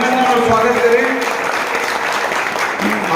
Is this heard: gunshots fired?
no